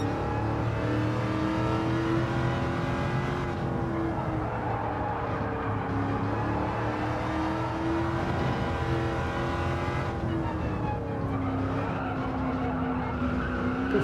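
A race car engine in the Gran Turismo 7 video game drones continuously and loud, its pitch rising and falling through gear changes and corners, with some tire squeal and no talk.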